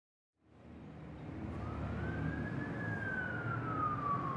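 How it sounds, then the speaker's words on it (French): A siren wails far off, rising in pitch and then slowly falling, heard alone over a steady low rumble of traffic or city ambience. It serves as a sound effect in a French audiobook. "On entendit une sirène dans le lointain."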